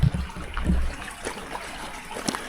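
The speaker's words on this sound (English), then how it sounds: "I can hear water, but I don't see it." A small stream runs beneath a forest trail at Mathews Arm in Shenandoah National Park, a soft, steady trickle and wash, with a few close thumps like footsteps near the start.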